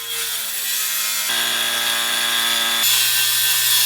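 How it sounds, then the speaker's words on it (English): A power saw cuts through stone tile for a shower, a steady loud grinding whine that shifts pitch twice as the blade bites, running continuously for about four seconds with no talk. "we're going to cut that stone short of this as well"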